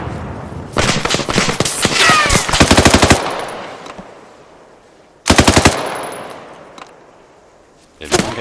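Rapid automatic gunfire in a zombie-horde video game, loud and close, with a long burst of machine-gun fire, a short second burst after a pause, and a final burst starting at the end.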